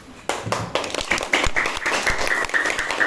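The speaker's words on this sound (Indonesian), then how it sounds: "Kasih aplaus untuk Ibu Herlina hari ini" Students in a classroom clap for their teacher, Ibu Herlina. Scattered claps build quickly into steady, fairly loud applause from the group.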